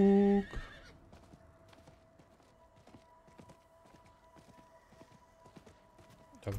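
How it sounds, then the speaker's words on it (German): A horse in the video game Diablo IV gives a sharp whinny at the start, followed by steady clip-clop hoofbeats at a walking pace under a sustained musical tone, fairly quiet throughout. "Oh, ist das schön, ein Pferd zu haben."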